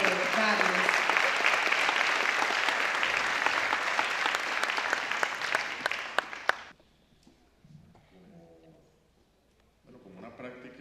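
An audience applauds at an event, a dense, loud wash of clapping that lasts about six seconds and then stops abruptly, giving way to quiet.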